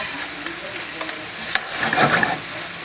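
Mushrooms and garlic sizzle in a stir fry pan, with soft scraping stirs and a louder burst of frying near the end, close and without talk.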